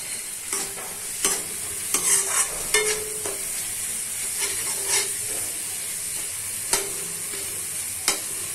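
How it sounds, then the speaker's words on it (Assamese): Garam masala spices sizzle in hot oil for a prawn curry with a steady hiss, broken by a spatula scraping and stirring the pan at irregular intervals. "এনেকৈ 2 মিনিটমান মছলাখিনি ভাজি ল'ম।"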